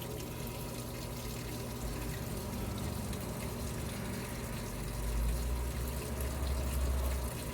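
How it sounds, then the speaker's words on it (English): A Samsung 4.5 cubic foot washing machine fills with water, a steady rushing hiss with a low hum from the machine, close and continuous, swelling slightly toward the end. "There, the water just kicked on. You can see if you look at angle it just right, you can see the water going in. You can definitely hear it."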